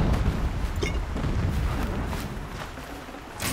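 A heavy rumbling blast from the game Horizon Zero Dawn, booming low and loud with a few sharp bursts and crackles, slowly fading out.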